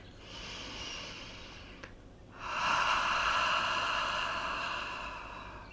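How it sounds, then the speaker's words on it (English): A slow breath drawn in through the nose, then a longer, louder exhale through the mouth, close and soft, airy and hissing, with a brief pause between. "Inhale through the nose. Exhale through the mouth."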